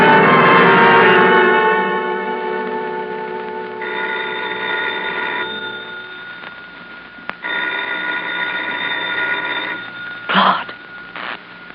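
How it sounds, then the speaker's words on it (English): A telephone rings at dawn in a radio drama, loud bell bursts repeating with short gaps between rings, followed by a few faint clicks and handling noises. "The phone."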